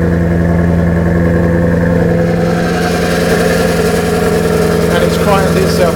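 A Lamborghini-like car engine running in sport mode with its exhaust baffles open, a loud, deep, steady rumble held close throughout, with someone talking over it.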